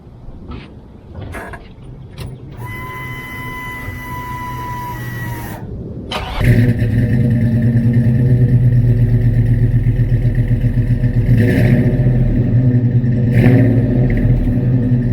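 A 1964 wagon hot rod with a FiTech EFI engine idles with a low steady rumble, then catches louder and settles into a deep, loping, close running note.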